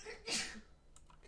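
One sharp, breathy sneeze bursts close to the microphone, followed by a faint breath and a brief spoken word.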